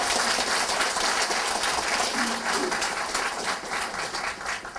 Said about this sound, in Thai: วันนี้อยากให้ทุกท่านปรบมือดังๆให้กับคณะผู้บริหารครับ